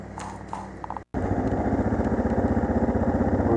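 A Yamaha XT 250 motorcycle climbing a mountain road: after a brief cut, its engine drones loud and close with a steady throbbing pulse, preceded by rumbling and wind noise.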